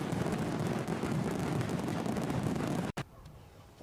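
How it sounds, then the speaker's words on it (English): A fireworks sound effect on a livestream bursts as a dense, loud crackling roar that fills the air for almost three seconds, then cuts off sharply and leaves a quieter rumble. "Let's see if these fireworks work for 100 likes up"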